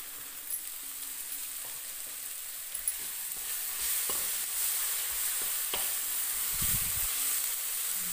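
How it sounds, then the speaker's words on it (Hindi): Chillies frying in a pan for a jackfruit curry, a soft continuous hiss and sizzle with a few light clicks and a low brief thump, close and moderately quiet, no voices. "अब हम इसमें मिर्च डालेंगे"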